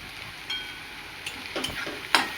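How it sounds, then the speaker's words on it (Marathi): Green bitter gourd being sautéed in a pan for a traditional Maharashtrian stuffed karela dish gives a low, steady sizzle broken by a few soft spatula scrapes and stirs. "त्याला 2 मिनिटं असं मस्त परतून घ्यायचं"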